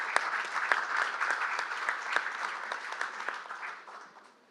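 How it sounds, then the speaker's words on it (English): Applause from a conference audience greeting panelists at a retail business panel, a fairly quiet, crackling round of clapping with a few sharper claps that gradually fades out. "So why don't we welcome these gentlemen out here with a big round of applause,"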